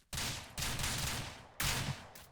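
Rifle fire in the Ranch Simulator game, three sharp loud shots spaced about half a second and a second apart, each with a long booming decay.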